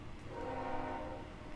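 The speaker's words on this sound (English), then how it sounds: "Man, there's so many trains." Train rumbling past with a sustained horn blast in the To The Moon video game, a short tonal honk over rolling rail noise at moderate level.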